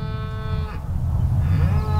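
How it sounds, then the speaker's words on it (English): Scottish Highland cattle lowing nearby: a long, loud moo with a steady tone that fades out, followed by a second, lower moo rising over rough outdoor background noise. "Nah, that's just the cows behind me."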